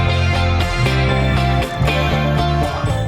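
Drum track with punchy kick and snare hits, played in a steady mid-tempo groove over sustained tonal backing, loud and continuous.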